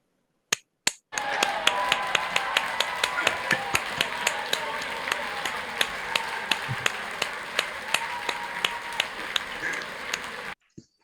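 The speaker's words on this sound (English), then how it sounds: "give yourselves a big round of applause" Graduates at a virtual graduation ceremony clap over a video call, a thin, slightly choppy run of claps with distinct individual hits in a steady rhythm, sounding compressed and close, cutting off abruptly at the end.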